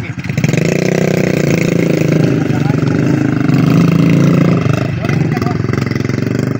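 Motorcycle loaded with sacks of rice on a rough farm road, its engine idling and running steadily and loudly close by while people talk over it.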